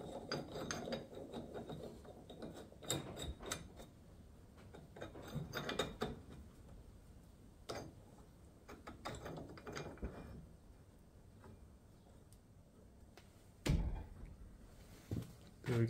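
Old blacksmith's hand-crank drill press being turned, its gears and ratchet giving off irregular metallic clicks and clanks, close and fairly quiet, with a few sharper knocks.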